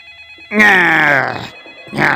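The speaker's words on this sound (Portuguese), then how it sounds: "Telefone." A telephone rings in two loud electronic bursts separated by a short pause, close and clear, with a faint high tone underneath.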